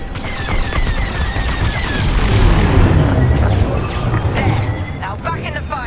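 Ship cores detonate in a Star Wars Squadrons space battle, heard as a sustained, loud rumbling boom layered with crashes and bursts over about six seconds, while voices speak over the combat.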